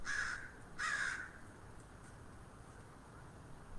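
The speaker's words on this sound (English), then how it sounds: "As that crow that is cawing over my head" A crow caws twice overhead outdoors, two short harsh calls close together at the start, followed by quiet ambient background.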